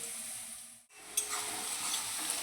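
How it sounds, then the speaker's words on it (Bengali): Onions frying in a pan for a Bengali lote fish bhorta, a steady close sizzle that drops out briefly near the start then returns with stirring scrapes. "এইবার পেঁয়াজ ভাজা কমপ্লিট হয়ে গেছে।"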